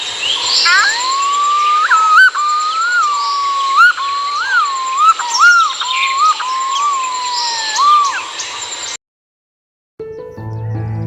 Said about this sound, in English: Following is the call of yellow-footed green pigeon.